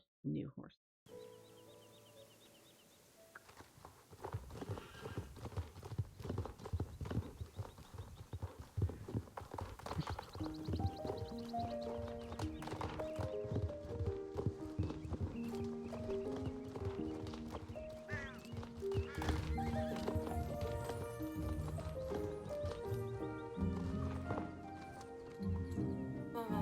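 Hoofbeats clip-clop steadily with an occasional whinny from a Fjord horse in the Star Stable Online video game, set under continuous game music and a talking voice throughout.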